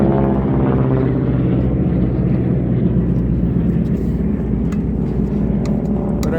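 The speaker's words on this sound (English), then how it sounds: "So we got planes going by in formation all day." Propeller airplanes flying past in formation at an air show a few miles away, a steady broad droning rumble that holds at a constant loud level throughout.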